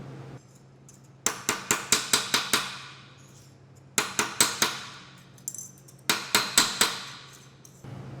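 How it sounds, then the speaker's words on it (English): Thin sheet metal being trimmed of its rolled edges for a sign build, heard as three bursts of sharp, ringing metallic snips and clanks, each a quick series of five or six strikes, close and loud over a steady low hum. "I'm just gonna trim off these little rolled edges"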